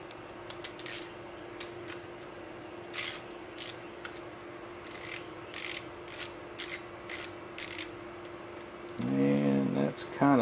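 A hand ratchet snugs a Torx T30 bolt on a motorcycle Tour-Pak. Several short bursts of quick clicking, up close, with a steady hum underneath. Someone speaks briefly near the end.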